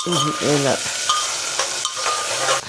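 Whole spices and green chillies tempering in hot oil, frying with a bright continuous sizzle close up and some stirring, while a brief voice-like tonal sound rises near the start.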